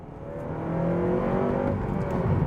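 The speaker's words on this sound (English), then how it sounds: "get those RPMs up a fair bit" Honda Civic Type R FN2 engine revving, a close rising engine note that climbs and holds steady at higher RPM, heard alone.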